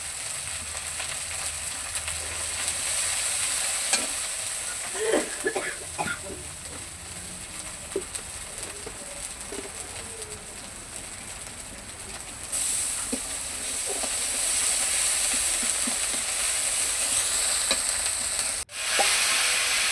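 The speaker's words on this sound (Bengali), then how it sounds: "এই যে ফুলকপি আলুটা মা দিয়ে দিয়েছে দিয়ে নাড়াচাড়া করছে" Steady frying sizzle and hiss as cauliflower and potato fry in spices, with a cluster of scraping, clinking stirring sounds near the start and a few scattered knocks later.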